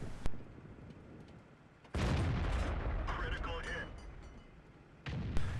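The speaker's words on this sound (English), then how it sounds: "I'm going to back up and shoot at him." Tank cannon shots in a tank combat video game, aimed at an enemy T-49: a sharp blast near the start, then a heavy boom with rumbling aftermath and a third loud report at the end, amid game ambience.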